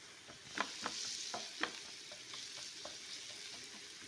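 Chopped onion fries in a pan for a kantoli vegetable dish: a soft, continuous sizzle with a series of quiet scraping stirs of the spoon, heard alone without talk.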